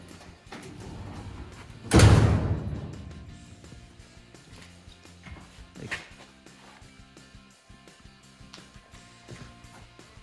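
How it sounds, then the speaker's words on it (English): The trunk lid on a 1963 Chevy under restoration with fresh metal work shuts with one loud, close, hollow thump, followed a few seconds later by a softer knock amid quiet shop background. "The trunk doesn't want to buckle when you go to close it anymore"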